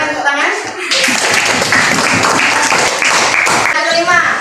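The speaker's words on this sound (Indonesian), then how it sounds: "Silakan tepuk tangan" Clapping from a class of schoolchildren in a lesson, a burst of hand claps with voices mixed in and a teacher speaking at the start and end.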